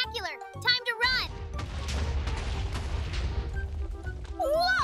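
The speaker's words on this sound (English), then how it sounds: "Now I'm gonna have a little explosion." A house blowing up in the Minecraft video game, a broad rumbling blast roaring steadily for several seconds, preceded by short game sound effects and with a voice at the end.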